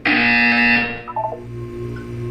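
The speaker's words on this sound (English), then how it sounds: "You will hear a buzzer." Harsh, loud electronic buzzer in the video game Portal 2, a sustained tone for about a second that cuts off into a faint mechanical hum with a few soft blips.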